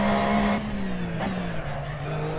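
A race car slides in the Assetto Corsa racing game, its engine note dropping steadily as the rear steps out, with a thin squeal of tires over the steady, loud drone.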